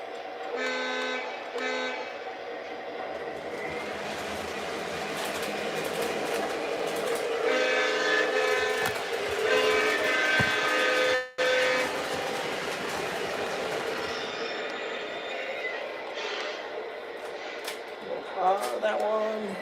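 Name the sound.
model train locomotive sounds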